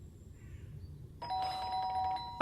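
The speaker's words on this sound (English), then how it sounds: "The doorbell went again" A two-tone doorbell chime rings once in the video game Fragments of Him, clear and fairly close after a quiet stretch, its tones holding and ringing out with a short knock-like burst at the end.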